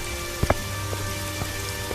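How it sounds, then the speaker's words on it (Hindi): Steady rain falls, a continuous wash of patter with a few sharper drop impacts, moderately close, with no voices. "सुंदर और सरला बारिश में चल पड़ते हैं।"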